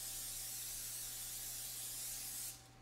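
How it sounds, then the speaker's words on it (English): Cooking spray hisses in one steady, close burst into a deep dish pie pan for roughly two and a half seconds, then cuts off abruptly. "I'm gonna spray it because you do not want it to stick."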